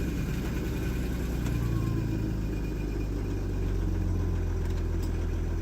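A used part-exchange car idles steadily after a cold start, a low continuous engine rumble close by with a slight rise in revs around the middle and no voices over it.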